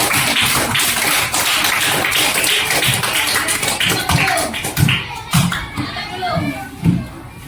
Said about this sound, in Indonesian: Kasih tepuk tangan untuk kelompok 1.